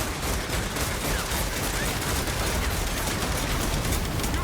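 Skaven Rattling Gunners open fire in a Warhammer tournament battle game, a dense, continuous rattle of rapid gunfire sustained at steady loudness with no pauses, close and filling the scene.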